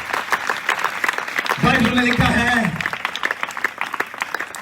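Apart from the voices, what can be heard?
congregation applauding at a sermon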